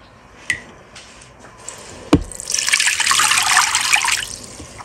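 Running tap water pours over a piece of lean pork in a sink after a couple of light knocks, a steady close rush of splashing water.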